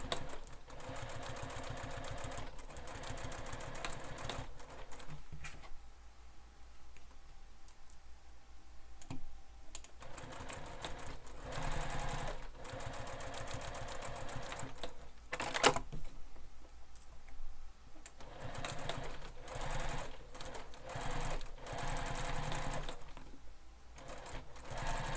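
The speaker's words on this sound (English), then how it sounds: "now we're going to top stitch the long edges of these connectors" A sewing machine runs steadily while top stitching the long edges of bag connectors, a quiet, even mechanical whir with fine rapid ticking, pausing briefly twice between stretches of stitching.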